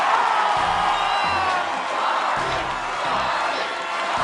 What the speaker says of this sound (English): there are cheers of joy from Charlie Andrews